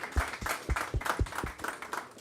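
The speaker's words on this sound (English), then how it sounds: "let's give Ryan a huge hand clap here for his big contribution" A small audience at a hackathon gives Ryan a short round of hand claps, about eight distinct, fairly close claps in a loose rhythm that thin out toward the end.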